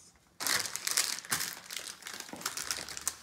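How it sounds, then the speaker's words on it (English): Plastic bags from a Harry Potter Lego set crinkle loudly and continuously up close as they are handled and rustled, starting abruptly after a brief quiet moment. "Hand me the bags. The Plastic. bags?"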